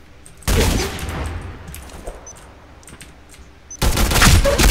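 Gunfire in the online shooter Black Squad, with two loud bursts of rapid automatic fire, one at the start and one at the end, and quieter game noise between them.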